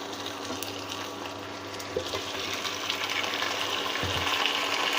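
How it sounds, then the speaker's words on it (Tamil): Chicken pieces sizzle after being added to a pan of sautéed onions for a restaurant-style chicken gravy, a steady close frying hiss with a few soft knocks and no voices. "இப்போ நல்ல வெங்காயம் வதங்கி வந்துட்டு இப்போ நம்ம சிக்கனை போட்டு"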